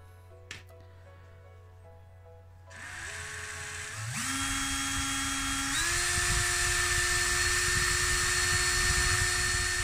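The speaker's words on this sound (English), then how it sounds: "here I am, just drilling it out and then taking the flange off." A drill bores out the post of a Matchbox die-cast car, spinning up from a low hum to a loud, steady high-pitched whine that steps up in pitch twice and then holds, close by with no talk.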